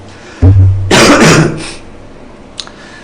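A man with a cold gives one harsh, throaty cough close to the microphone, preceded by a short low grunt and followed by quiet room tone.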